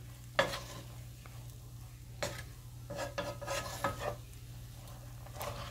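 A utensil stirring sliced scallions into shrimp fried rice in a hot pan, with close scraping strokes over a soft, steady sizzle.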